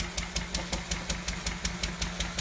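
A Lister D stationary engine runs with its flywheel turning, giving a steady, regular chugging beat of sharp puffs about five times a second, close and moderately loud with a low hum beneath.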